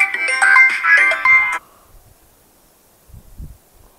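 A loud mobile phone ringtone plays a bright melodic tune for about a second and a half, then cuts off, leaving near silence with faint low handling noise.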